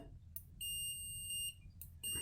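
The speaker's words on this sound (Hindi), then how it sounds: "लेकिन ये बीप वगैरह सब काम कर रहा है" A digital multimeter in buzzer (continuity) mode emits two sustained high electronic beeps, each about a second long, separated by a short gap, faint and close against a quiet workbench background; the meter's display shows no reading.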